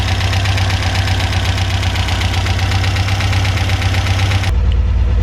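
A 1977 MGB GT engine idles at about 1500 RPM on poor fuel, not yet warmed up, a loud, steady close-up rumble with rapid even pulsing that cuts off abruptly near the end.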